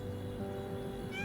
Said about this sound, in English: It's a little cat.